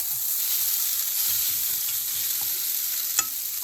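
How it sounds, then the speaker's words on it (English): Shrimp pad thai noodles stir-fried in a hot pan, with a steady close sizzle and soft scraping stirs throughout, plus one brief sharper clink near the end. "And now I'm going to add my noodles into this. Just break them up like that."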